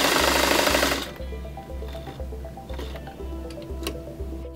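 A White 642 domestic sewing machine stitches a scallop pattern at stitch length 5: a rapid, steady mechanical whir with a regular thumping pulse, close and clear, after a brief burst of louder noise at the start.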